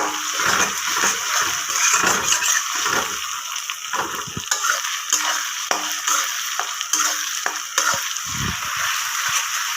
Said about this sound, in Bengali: আমি কিন্তু মশলাগুলো ভালোভাবে কষিয়ে নিচ্ছি